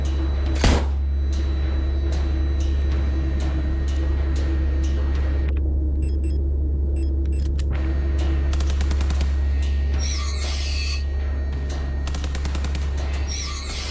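Revolver or rifle gunshots in the video game Signalis: a sharp shot early on, then quick clusters of clicking, rapid reports over a loud, steady low hum.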